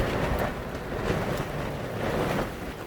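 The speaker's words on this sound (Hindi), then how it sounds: "बाहर बहुत बहुत बहुत तेज़ हवा चल रही है" Very strong wind roaring without a break outside in a jungle during rain, a loud, broad rushing with gusty swells and buffeting against the microphone.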